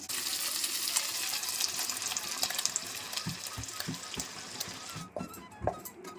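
Spices frying in melted butter for kaju paneer curry give a steady, fairly loud broadband sizzle with a few scraping stirs and clinks near the end.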